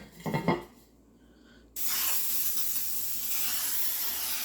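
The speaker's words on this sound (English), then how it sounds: "I got my Bundt pan and my non-stick spray. And we're going to spray our pan" A sustained, bright hiss of non-stick aerosol spray onto a Bundt pan starts abruptly after a short rustle and continues steadily for a few seconds, close and fairly loud.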